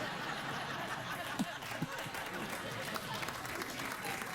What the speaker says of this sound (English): Please, please. Don't applaud.